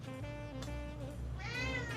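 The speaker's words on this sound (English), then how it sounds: "Hola, Kitty. It's a new thing for you to play with" A pet cat meows with a drawn-out, wavering call, then a second rising meow near the end, close and fairly loud over a low background hum.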